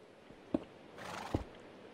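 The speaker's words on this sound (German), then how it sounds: "Da steht ein Pferd in der Höhle." A horse in Minecraft, standing inside a cave, gives a short whinnying neigh between two soft hoof clops, quiet and alone in the game audio with no talking.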